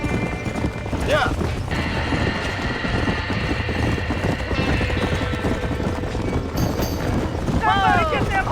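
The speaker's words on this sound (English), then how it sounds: "Somebody get them horses out!" Horses whinny and neigh in panic inside a burning barn in Red Dead Redemption, with hooves and fire roar filling the scene as voices shout over the commotion.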